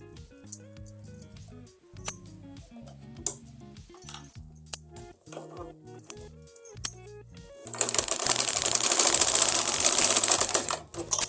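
A sewing machine stitches a salwar belt with rhythmic mechanical clacking and short bursts of motor hum. Near the end the machine gives way to a loud, sustained rushing noise.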